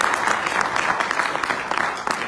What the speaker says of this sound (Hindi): लेकिन फिलहाल जितने भी लोग यहाँ पे आए हैं इन सबके लिए जो तालियां हो जाए